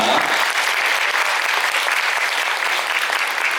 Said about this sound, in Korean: 이 자리를 채워주신 모든 분들께 축복 속에 박수 부탁드리겠습니다